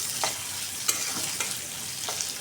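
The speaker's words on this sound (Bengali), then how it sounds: "এটাকে ভালোভাবে ভেজে নেব" Onion frying in a pan gives a steady, close hiss of sizzling, broken by a few short scraping strokes as it is stirred, with no voices.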